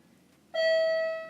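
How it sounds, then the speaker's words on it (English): A bell strikes once and rings out with a bright, sustained tone and shimmering overtones, slowly fading against a quiet room background. "I'll talk over the bells"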